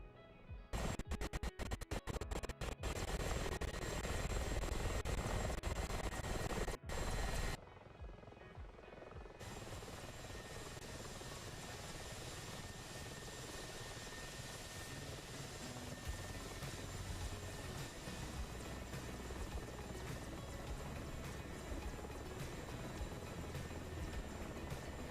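A Mi-24 attack helicopter in a flight combat game roars with a steady, dense rotor and engine drone, preceded by a loud crackling burst at the start, then holding a constant heavy hum throughout.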